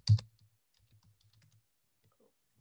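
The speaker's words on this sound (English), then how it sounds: "I'm typing that to the chat right now" Quick, light keystrokes on a computer keyboard in a quiet room: one sharp click, then a soft, uneven run of taps that trails off into scattered single presses.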